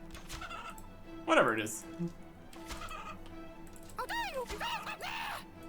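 Chickens in the game RuneScape 3, inside the Dominion Tower, give a few short, rising clucks near the end, with a sharper squawk earlier, while someone talks quietly over the game sounds.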